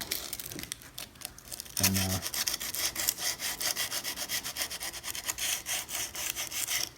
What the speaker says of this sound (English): as you use the sandpaper, you pull a little bit more back to you